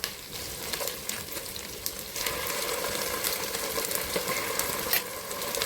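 Ginger-garlic paste frying in oil with whole spices, onion and green chilli for tomato rice, giving a steady, close sizzle with faint stirring scrapes and no voices.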